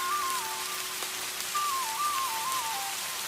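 Rain falling as a sound effect in an animated children's story, a steady hiss of drops with a faint whistling tone gliding above it, and no voices.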